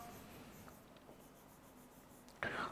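A marker scratches faintly across a board during a chemistry lesson, making soft, sparse strokes in a quiet room before a sharper, louder stroke near the end.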